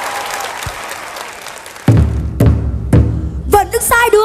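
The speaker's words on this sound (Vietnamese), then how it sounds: "Hãy đi cho một tràng pháo tay nhá" Brief applause from the audience at a televised children's bolero singing contest fades under a bright crowd hiss, then gives way to loud drum hits and the start of sung music.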